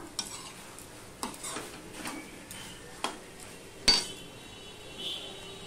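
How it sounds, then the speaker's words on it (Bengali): Food being stirred in a pot during home cooking, a few scattered scrapes and clinks of a spoon against the pan over a quiet background, with one sharper knock near the end. "এবার একটুখানি আমি কিছুক্ষণ এটা নেড়ে নেব।"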